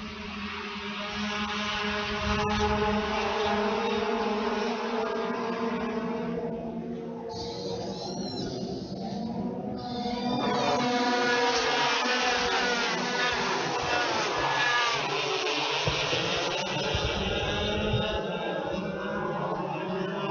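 Parilla Senior racing karts run a WKA Manufacturer's Cup final, producing a continuous, fairly faint buzzing whine that rises and falls in pitch as karts pass, with a brief dip partway through.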